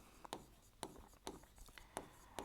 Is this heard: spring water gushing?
no